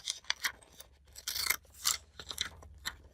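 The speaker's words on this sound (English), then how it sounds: "this way, when I use scissors" Scissors snip through paper for a collage journal, a run of close, crisp cutting strokes in an uneven rhythm with short pauses between cuts.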